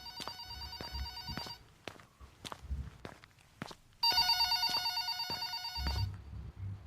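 A telephone rings in loud repeated bursts in the horror video game Pikabuu Suster Jaga Malam, set on a nurse's night shift, with footsteps and clicks between the rings and no talk.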